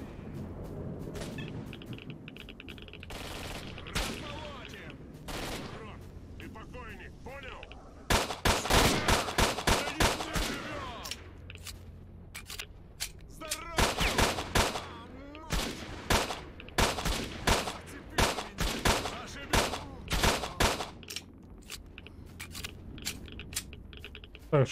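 Sniper rifle and other gunfire in S.T.A.L.K.E.R. Shadow of Chernobyl: scattered sharp shots early, then dense bursts of loud cracks from about eight seconds on, repeated in clusters through the end, with a low rumble beneath and a few speech sounds.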